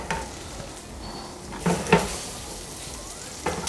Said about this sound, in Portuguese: Agora a gente vai pegar nossos cubinhos de tender e nós vamos fritar eles